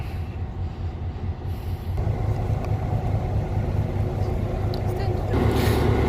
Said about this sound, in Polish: Pociąg sobie jedzie, lokomotywa z przodu.